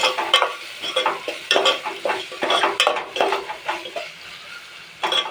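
A spoon stirs masala into potato palya in a pan, giving a quick run of close scraping and clinking strokes with a light sizzle underneath. No one speaks.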